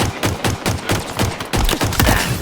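Rapid needler fire in a Halo game, a fast run of sharp bursts spaced evenly for about a second and a half, then a denser, louder stretch of shots close up.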